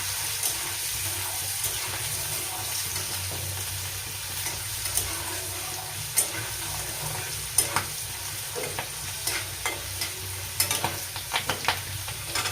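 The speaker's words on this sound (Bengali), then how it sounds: "আমি ডাইরেক্ট কড়াইতে তেলেই ভেজে নিচ্ছি।" Chickpeas frying directly in oil in a wok, a continuous close sizzle with irregular scrapes and clicks of stirring that grow busier toward the end, no talk.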